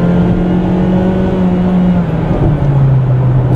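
A 2014 Mazda 3 sedan with the 2-liter engine accelerating, a loud, close engine drone with a low tone that slowly shifts pitch as the revs change, without any talk.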